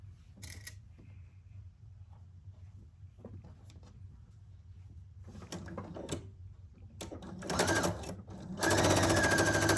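A sewing machine stitches quilt pieces with short, scattered bursts of running and handling clatter, ending in a louder steady run over the last second, with no talking.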